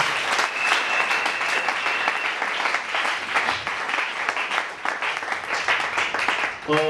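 A church congregation in Brazzaville applauds loudly and steadily, with dense sustained clapping and some cheering voices mixed in, running throughout before tapering at the end.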